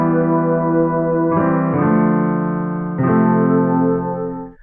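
Synthesizer pad layered with a chord part in an electronic production. Several full sustained chords change in steady succession and then fade at the end. No voice is heard.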